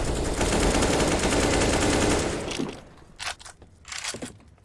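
Counter-Strike gunfire, a dense sustained burst of automatic fire lasting a couple of seconds, followed by a few shorter separate shots and impacts.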